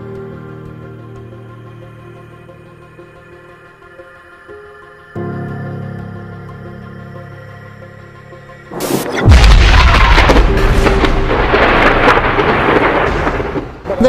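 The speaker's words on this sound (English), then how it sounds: "Loud explosions rocked neighborhoods on the northeast side of Flint this afternoon" Loud explosions from U.S. Army training boom over neighborhoods on the northeast side of Flint. After a quieter stretch, a heavy blast hits and is followed by a long, rumbling roar that rolls on with no talking.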